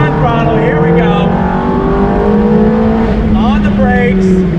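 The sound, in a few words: 2005 Ferrari F430 Spider accelerating through the gears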